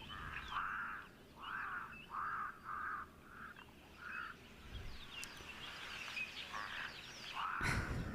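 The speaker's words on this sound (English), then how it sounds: "the loud, eerie birds that we often see and hear in Okukoyo." Loud, eerie bird calls ring out in the wilds of Okukoyo, a string of harsh, repeated cries at fairly close range, with some overlapping distant calls and broadband outdoor background noise.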